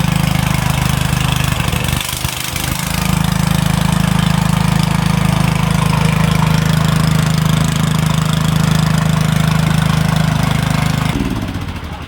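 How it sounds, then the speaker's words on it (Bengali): A Chinese-made Honda-type water pump engine with a compressor fitted fires up after a brief stutter and runs at a loud, steady, close idle with a constant drone, then cuts off at the end. "সবগুলো লাগিয়ে দিয়ে স্টার্ট করে দেখাচ্ছি, কম্প্রেসরটা দেখাচ্ছি আপনাদেরকে।"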